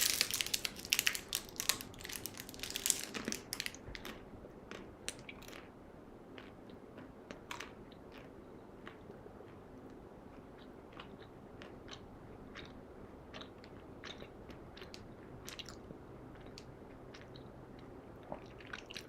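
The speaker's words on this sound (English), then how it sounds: "I'll just have a bit of a snack here." Someone chews a snack close to the microphone, with soft crunchy bites and moist squishy chewing in an irregular rhythm, louder at first and then fainter, with no talk.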